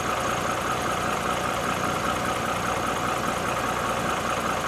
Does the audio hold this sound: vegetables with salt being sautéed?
no